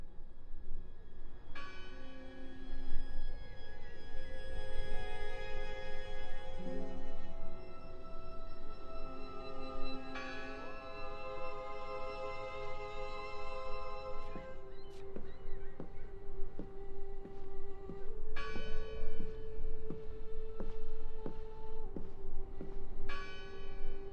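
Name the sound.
bell ringing in the video game Draugen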